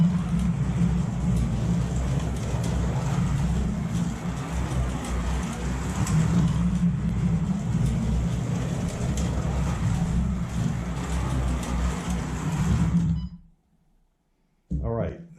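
A Carrera slot car running laps on a track, a steady close whirring motor drone that holds level for many seconds, then cuts out briefly before resuming.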